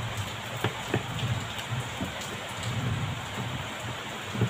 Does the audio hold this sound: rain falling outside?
yes